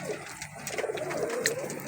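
Laldoma pigeons coo softly from a cage, low and murmuring under faint background noise, with no clear talking.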